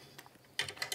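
A bolt is turned with a tool bit while fitting a heated bed to a 3D printer, giving faint, close mechanical clicks and a short ratcheting burst toward the end.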